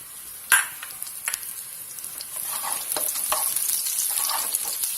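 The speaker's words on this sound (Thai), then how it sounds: "ในเมื่อกระทะร้อนแล้วก็ กระเทียมเจียวลงไปเลย" Steady sizzling of garlic frying in a hot wok, with sharp clanks of stirring and scraping, no voices.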